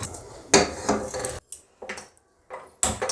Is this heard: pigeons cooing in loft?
no